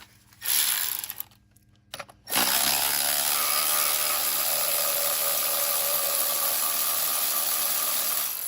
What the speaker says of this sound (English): this does not hurt it pulling it out